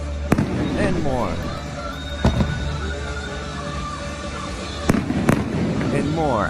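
Fireworks burst over a town during a gay pride celebration, with several sharp booms and crackling bangs spread across the stretch, some louder and nearer than others, over a steady background din.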